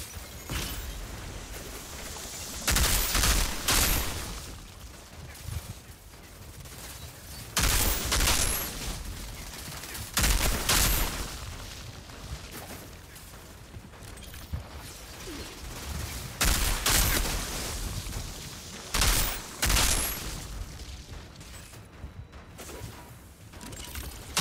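Video game gunfire from a Techno Pestilence build on the Chem Plant map: loud bursts of rapid shots arriving in clusters every few seconds, with quieter mechanical clatter and game noise between them.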